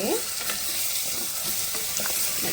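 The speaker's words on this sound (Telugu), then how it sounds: "మంచిగా వేయించుకోవాలి హై ఫ్లేమ్లో పెట్టండి హై ఫ్లేమ్లో పెట్టి ఒక రెండు మూడు నిమిషాలు ఇట్లా వేయించుకోండి" Mutton paya frying in oil on high flame, a continuous bright sizzle with light scraping and stirring knocks throughout.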